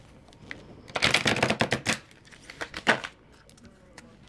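Tarot cards being shuffled by hand, a dense burst of rapid crisp riffling snaps followed by a few slower separate flicks, close and fairly loud.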